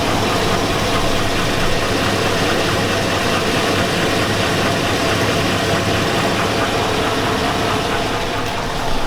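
A 2002 Chevy Avalanche 5.3L V8 with 217,000 miles runs steadily, giving a loud, constant engine drone with a faint irregular knocking from low near the oil pan, with no talking.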